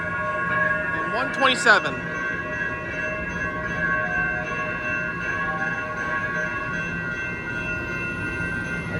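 A Blue Line light rail train pulls out of the Mall of America station: a steady rolling rumble with a brief rising squeal or horn-like tone near the start, heard under nearby talk.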